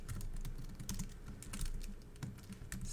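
Typing on a computer keyboard, a quick irregular patter of soft key clicks, close and fairly quiet, with no talking.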